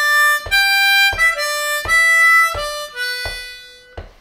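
Harmonica playing a short melodic phrase, six clear held notes stepping in a steady rhythm, loud and close with no talking.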